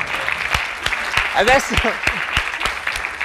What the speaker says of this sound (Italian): L'ha trovata, un applauso.